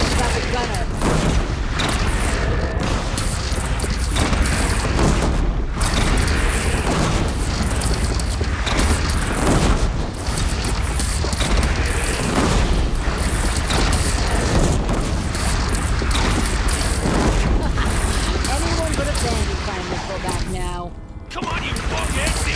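Cannon fire and explosions in the Horizon Zero Dawn video game, a dense continuous barrage of booms and gunfire under shouted voices and game music, loud throughout.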